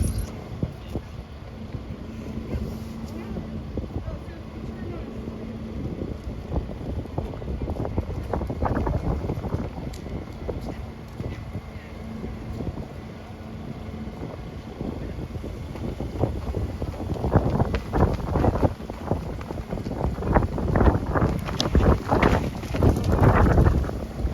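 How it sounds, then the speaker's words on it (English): Gusty wind blows outdoors at an open-air vigil, a steady rushing roar with microphone buffeting that strengthens and turns louder and choppier toward the end, with no voices. "Yeah, it's windy."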